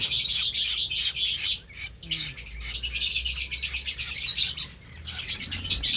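Caged young birds close to fledging chirp loudly and continuously in high-pitched bursts, with brief pauses, some wing flapping and a low background hum.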